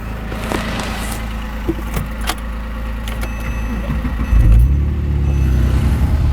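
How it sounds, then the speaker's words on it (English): A supercharged car engine cranks and fires up from cold, a loud low rumble building after a few seconds and settling into a steady idle, with light metallic rattles and clicks before it catches. "now I'm going to start up this supercharged beast."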